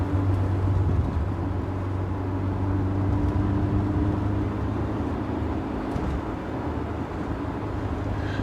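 A BMW E30 M3 cruises along, its engine humming steadily from inside the cabin with a low rumbling drone and road noise throughout.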